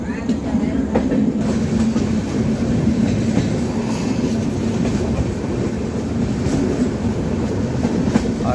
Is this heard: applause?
no